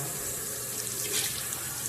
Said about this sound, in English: So I'm just washing off the mask now.